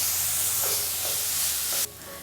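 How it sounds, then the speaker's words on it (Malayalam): Onions sautéing over medium flame in a pan for a restaurant-style soya curry give a steady close hiss with faint stirring scrapes, the sizzle dropping abruptly softer near the end. "സവാള ചേർത്ത് കൊടുത്തതിന് ശേഷം നല്ല രീതിയിൽ ഇതെല്ലാം കൂടി ഒന്ന് വഴറ്റി കൊടുക്കണം"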